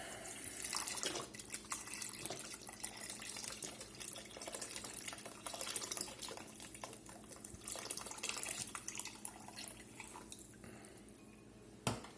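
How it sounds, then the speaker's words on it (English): Beef stock pours into a stew pot with a soft continuous liquid splash and trickle, faint and steady throughout with a few small clinks, and no talking. "We're going to put our beef stock in."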